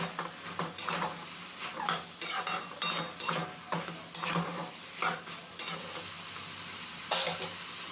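Bitter gourd and potato curry stirred in a pan, with a steady run of metallic spoon-on-pan scrapes and clinks over a soft background hiss, no talking.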